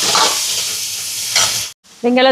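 Tomatoes sautéing in a pan for a chicken dish, giving a steady close sizzle that cuts out briefly near the end, then returns with a brighter hiss and a faint tonal ring.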